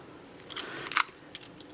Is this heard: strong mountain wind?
no